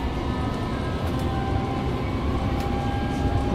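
A Copenhagen metro train runs with a steady, dense rumble and rolling roar, heard continuously from close by with no voices.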